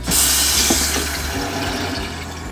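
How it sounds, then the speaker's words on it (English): Water streams steadily into a coffee pot, a continuous close pouring and filling rush with a bright hiss that holds for the whole stretch without any talk. "Next, we add water to the pot."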